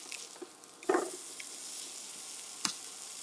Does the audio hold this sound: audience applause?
no